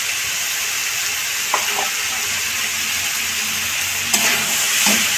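Green peas go into a hot pan for navratan dal, setting off a steady broad sizzle with a few brief spatters and scrapes as they land and get stirred.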